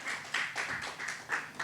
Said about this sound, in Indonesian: yuk tepuk tangan dulu buat Tuhan